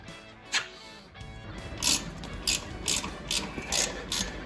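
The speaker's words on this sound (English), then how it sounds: "Get that clamp nice and loose." A clamp bolt on a Ford Model A steering column being loosened with a ratchet, its close, crisp clicks coming in irregular bursts over a low mechanical background with no talk.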